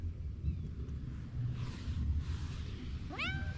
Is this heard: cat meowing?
yes